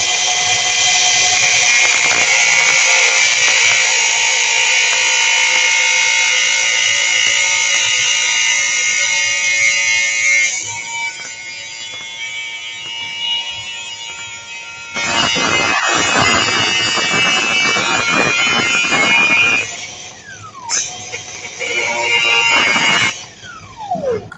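A Revolution M1 high-speed flex shaft machine cuts through a shaft with a loud, shrill, sustained whine. The whine drops and returns several times in separate bursts before a final stretch of grinding.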